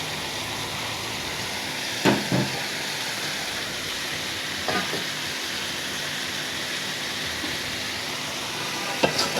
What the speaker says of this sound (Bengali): মাছগুলো আমি আজকে একসাথে পেঁয়াজ, মাছ, তেল সব কষাবো